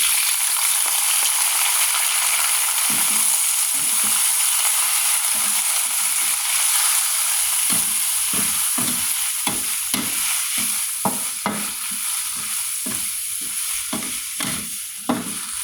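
Horse mussels stir-fried with roasted chili paste in a pan, a steady sizzle running under repeated rhythmic scraping strokes of the stirring utensil, growing more frequent toward the end, with no voices.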